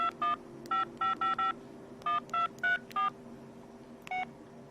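A phone keypad beeps out a number, one touch-tone at a time, in quick irregular bursts with short pauses between groups, fairly close over a faint steady hum.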